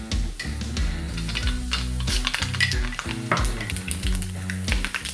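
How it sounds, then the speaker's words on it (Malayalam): Two teaspoons of mustard seeds crackle and sizzle in hot oil at the start of a Kerala beef pepper roast, a busy, close frying hiss with sharp pops under background music. "കടുക് ഏകദേശം പൊട്ടിക്കഴിഞ്ഞു."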